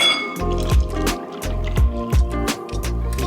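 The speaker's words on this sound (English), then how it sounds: "Now to that we now add about 1 litre of milk." Milk poured into a bowl of whisked eggs for moussaka, a close liquid glugging and splashing in uneven pulses as the stream fills the bowl.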